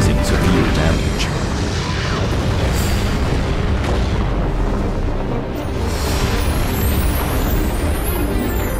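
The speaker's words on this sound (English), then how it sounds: "They then order a bombardment on the port of Kagoshima" An artillery bombardment pounds the port of Kagoshima in Shogun 2 Total War, producing a dense, continuous roar of booming blasts and rumble that stays loud throughout.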